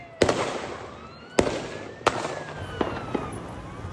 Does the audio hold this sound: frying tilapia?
no